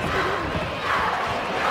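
Loud, dense crowd roar and cheering at a Manipuri bout as fighter Jadumani Singh controls the last thirty seconds, a steady wall of noise with shouts rising through it.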